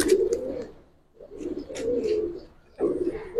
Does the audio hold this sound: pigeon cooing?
yes